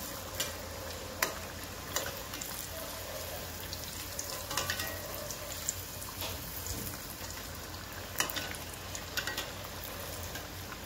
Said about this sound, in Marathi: ते तुम्ही जास्त पण यावेळेस तळू शकता, फ्राय करू शकता